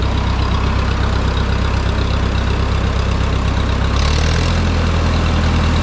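An old farm tractor engine runs loud and close with a deep steady drone, then picks up noticeably near the end as a little throttle is applied, no voices.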